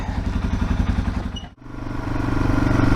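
A motorcycle engine idles close by with a rapid, lumpy thumping beat; midway it briefly dips and stumbles before settling back into the steady idle.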